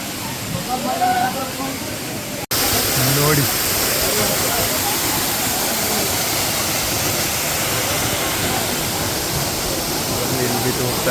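A loud, constant roar of the Manikyadhara waterfall falling from above, a dense rushing wash close by, briefly preceded by quieter ambient sound with faint voices.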